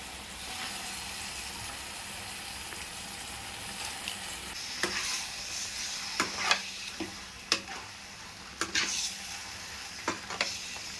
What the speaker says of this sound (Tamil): முக்கால் கிலோ சிக்கன் சேர்த்துக்கிறேன்.